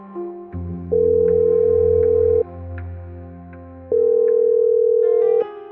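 A phone ringback tone sounds twice, each a steady electronic burr lasting over a second, separated by a pause.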